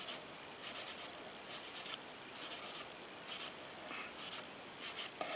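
A fine-grit nail file rubs along the edge of a fingernail in quick, repeated light strokes, soft and close, forming short rhythmic bursts with brief pauses between them and no talking.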